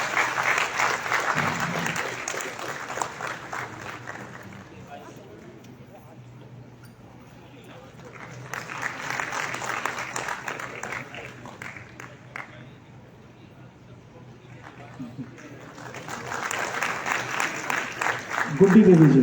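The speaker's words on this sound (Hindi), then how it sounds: "तालियों के साथ दीदियों का स्वागत होना चाहिए।" Audience at a community craft event claps in three separate waves to welcome women to the stage, quieter stretches between them, with a voice on a microphone at the end.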